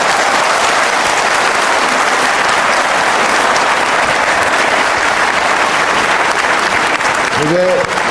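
Sustained applause from a television studio audience during a Pakistani interview, loud and unbroken for several seconds, with faint voices underneath near the end.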